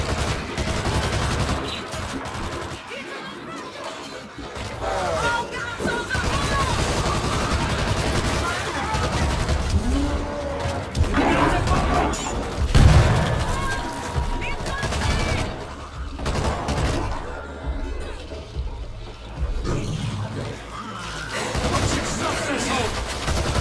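Dense, continuous gunfire in the zombie shooter World War Z, with rapid bursts and machine-gun fire running throughout, loud and close, with voices calling out over the shooting.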